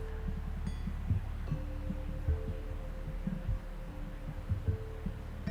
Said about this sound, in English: attune your heartbeat with the heartbeat of the earth